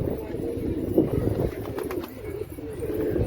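Pigeons at a rooftop loft give soft, low cooing amid steady outdoor background noise, close by and fairly quiet.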